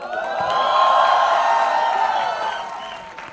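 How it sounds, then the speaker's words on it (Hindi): Audience applause at a movie trailer launch, a dense burst of clapping and cheering that swells within the first second, holds loud, then tapers off. "रणबीर बैठा है, इसके लिए ताली बजा दो एक बार यार।"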